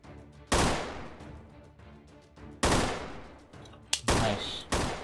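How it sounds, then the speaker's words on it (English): Submachine gun fire rings out in the video game Freeman: Guerrilla Warfare: several sharp, loud bursts close by, separated by short gaps, each decaying quickly into a quieter battlefield background. "I forgot I'm using a submachine gun"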